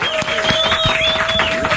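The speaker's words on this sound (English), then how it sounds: "give a big round of applause" A studio audience applauds and cheers to welcome former US Attorney General Eric Holder onto a morning show, a steady dense clatter of clapping under music tones.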